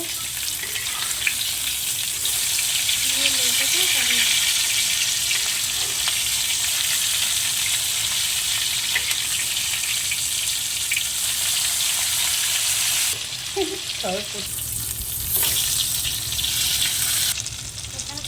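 Pangas and tengra fish frying in a pan with bottle gourd leaves, a loud, steady oil sizzle that runs without a break, with a few soft clinks and stirring touches near the end.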